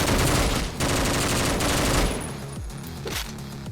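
Rapid automatic gunfire from a weapon in the video game Otxo, a dense loud burst of shots lasting about two seconds, followed by a few sparser, quieter hits and clanks.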